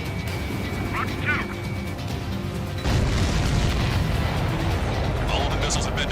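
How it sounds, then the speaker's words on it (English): Missiles blowing up as they are shot down in the jet combat game Ace Combat 7, a heavy rumbling boom swelling midway and rolling on under continuous engine roar and radio chatter. "All of the missiles have been destroyed."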